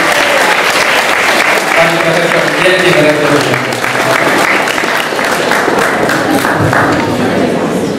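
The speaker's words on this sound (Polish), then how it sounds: "Wszystkim wielkie brawa" Loud, dense applause fills a school hall during a Teachers' Day thank-you ceremony, with a voice speaking over the clapping as it continues steadily throughout.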